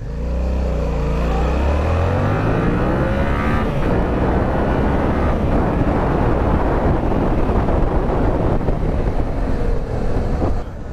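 A restricted light motorcycle pulls away from a standing start, its engine note climbing steeply through the gears with rising harmonics, loud and close, mixed with heavy wind rush on the microphone.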